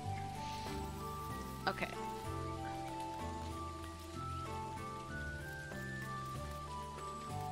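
Rain falls in the farming video game Dinkum as a soft, constant patter under layered in-game music tones, with one short spoken word.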